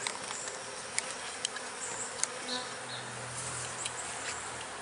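A steady, close hum of many honey bees buzzing together on a hive frame, with a few sharp clicks and taps cutting through.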